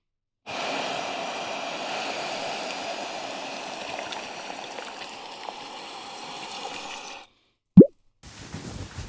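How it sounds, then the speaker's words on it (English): A kilo of sugar pours into about two litres of boiling water for a homebrew IPA, making a steady close hiss for several seconds before it stops, followed by a single sharp knock and a short rustle. "This sugar is going into about 2 litres of boiling water."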